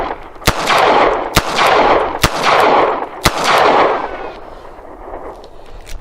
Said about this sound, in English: This time I'm going to fire 5 rounds